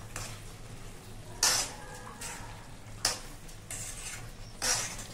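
Goat liver curry fries gently in a pan with a soft background sizzle. Three sharp scraping strokes of a spoon stirring it stand out at even intervals, heard close with no speech.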